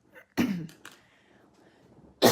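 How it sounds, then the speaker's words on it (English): Two or three sharp, explosive coughs burst out, separated by brief quiet gaps, close to the listener. "I don't know where this cough is coming from."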